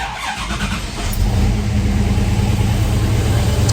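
A car engine turns over and catches, then settles into a steady, loud rumbling idle that continues to the end.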